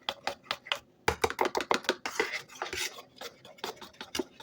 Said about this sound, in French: je viens mélanger le tout